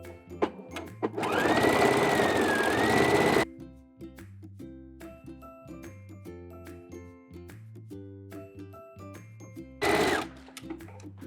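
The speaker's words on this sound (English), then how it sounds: "I have my sewing machine set to the broken zigzag stitch for ultimate stretch" A sewing machine runs a broken zigzag stitch along a folded hem, with one steady whirring burst of about three seconds and a shorter burst later. Background music plays between the bursts.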